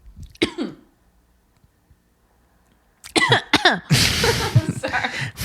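One sharp cough, then a quiet stretch, then a burst of harsh coughing and throat clearing, close and loud.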